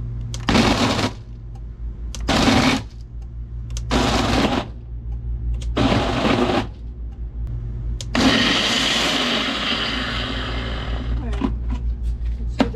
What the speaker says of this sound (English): I've blended up my slivered almonds and the medjool dates